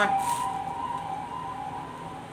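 An emergency siren wails steadily at moderate distance, its tone holding fairly level over a low background rumble.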